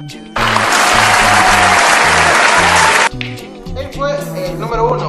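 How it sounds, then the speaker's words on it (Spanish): A burst of applause rises abruptly and holds steady for about three seconds before cutting off, with music and voices continuing underneath and after. "Aplausos para él, aplausos."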